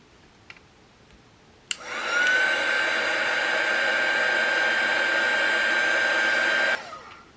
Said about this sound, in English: This is more of a heat gun, so I think I'm going to change it for my little blowy gun.